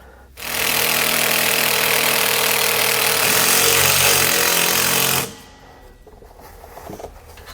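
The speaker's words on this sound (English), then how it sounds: "we're going to take our self-tapping screw here, just drill it into place" A power drill drives a self-tapping screw into an RV trailer's axle area during a brake actuator hose install: one loud, close, sustained whine of about five seconds that stops abruptly, followed by quieter background.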